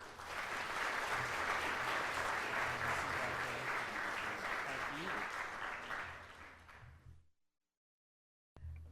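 Sustained applause from an audience at a Florida Supreme Court pro bono award ceremony, a dense steady clapping that fills most of the clip before fading out near the end, then briefly resuming.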